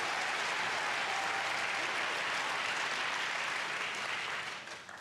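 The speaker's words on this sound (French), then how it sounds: "l'audience applaudissant" A large audience applauds loudly in a continuous, dense wash of clapping that stays full and even before tapering slightly at the end, with no voices over it.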